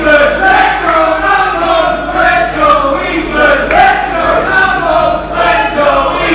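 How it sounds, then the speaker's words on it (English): A crowd at a barbed wire pro wrestling event chants loudly in rhythmic, alternating waves, split between the two teams and sounding like dueling chants filling the arena. "Crowd's still incredibly divided."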